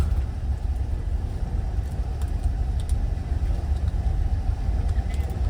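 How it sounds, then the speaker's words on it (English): A 1971 Ford F-100 pickup truck engine idles steadily with a deep, even low rumble throughout, close and fairly loud, with no voices over it. "she idles"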